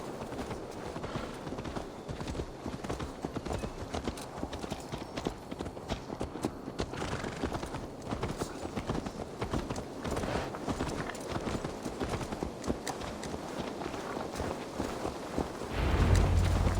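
Horse hooves clip-clop steadily at a walking pace in Assassin's Creed Valhalla, a continuous moderate rhythm of hoofbeats with a louder burst near the end.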